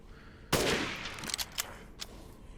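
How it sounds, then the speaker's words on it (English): A sniper rifle fires in Resident Evil Village, one loud sharp shot with a ringing tail, then a few smaller impact cracks and a last distinct pop close by. "we're going to pull out the sniper rifle and we're going to headshot one of them here if I can"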